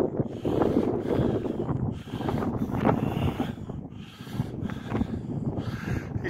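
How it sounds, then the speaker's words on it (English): Steady, gusty wind buffets the microphone on an exposed hilltop summit at Back Tor, a continuous loud roar that swells and dips in waves with no talk. "It's quite breezy on top."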